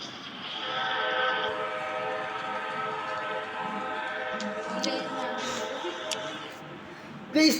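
Train in the video game Choo Choo Charles rumbling along with a sustained horn-like tone, moderately loud, with someone talking over it.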